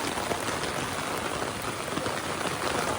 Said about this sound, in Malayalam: എന്തായാലും ഷൊർണൂർ എത്തിയപ്പോൾ നല്ല കിട്ടിലൻ മഴ.